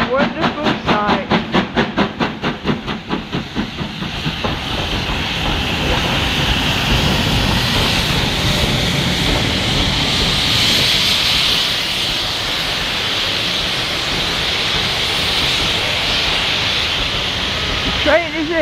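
Steam train pulling into Goathland Station: rhythmic chuffing fades into a long, loud hiss of steam as the locomotive slows and stops, with people talking nearby.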